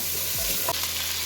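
Chicken pieces frying and being stirred in a pan until they turn from pink to white, a loud steady sizzle with a brief scrape of stirring, close up and without talk.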